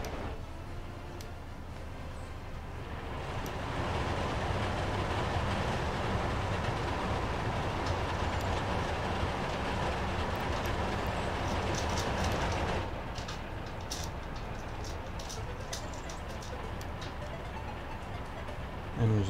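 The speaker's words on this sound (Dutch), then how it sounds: "nu is de trein vertrekt" Train departing in the city-building game Workers & Resources: Soviet Republic, a steady rumbling rail roar with faint clickety-clack that swells after a few seconds and holds, easing slightly toward the end, with no talk over it.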